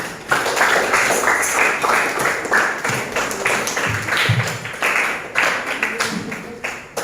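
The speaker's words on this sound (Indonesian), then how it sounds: "Kita kasih tepuk tangan untuk kelompok 5." Students in a classroom clap for a group presentation, with a run of distinct, moderately loud claps throughout and faint voices mixed in.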